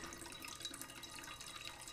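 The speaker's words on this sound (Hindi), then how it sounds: "दाल ऐड करने के बाद हम इसके अंदर एक कप पानी ऐड कर देंगे" A cup of water poured into a cooking pan of lentils, a steady continuous splashing pour heard close up with no talking.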